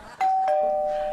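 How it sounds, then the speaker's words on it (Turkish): Doorbell rings indoors in a Turkish home with two clear electronic chime tones, the second held and slowly fading, heard alone without voices. "Ah, bu zil sesi kulağıma hiç bu kadar hoş gelmemişti."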